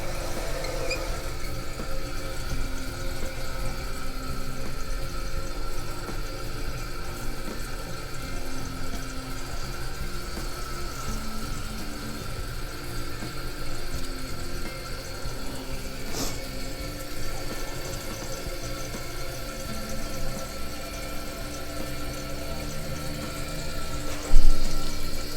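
Water hisses and rushes steadily into a toilet tank for the whole stretch, a constant close filling sound with a sharp clunk near the end.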